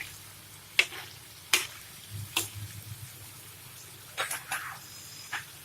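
Goat liver (kaleji) fries in oil on a tawa with a soft, steady sizzle, broken by several sharp spatters and pops at uneven intervals, close and fairly quiet.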